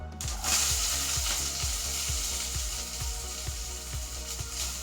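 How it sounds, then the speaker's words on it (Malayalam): Onions fry in a pan after mustard seeds have popped, a loud steady sizzle close by, broken by regular scraping stirs and no voices. "നമുക്കിനി അതിലേക്ക് സവാള ഇട്ട് കൊടുക്കാം."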